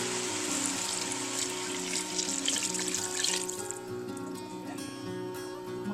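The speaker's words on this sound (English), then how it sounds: "4 cups of water to begin with." Water pouring steadily into a pot of lentil soup, about four cups in a continuous splashing stream that tapers off toward the end, close and moderately loud, with a faint background hum.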